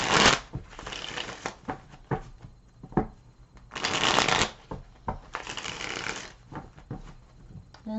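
Repeated bursts of a deck of cards being riffled and bridged, crisp fluttering rushes with short pauses and taps between shuffles, up close.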